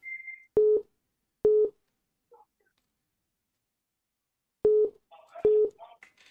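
A telephone busy signal after a call is cut off: evenly spaced loud beeps in pairs, with a long silent gap and faint line noise between them.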